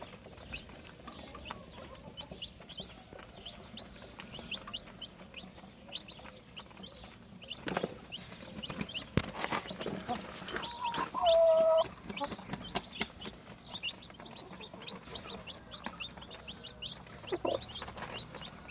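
Chickens and newly bought chicks clucking and peeping in a coop, a steady scatter of soft calls with occasional louder bursts and knocks over a long stretch of background noise.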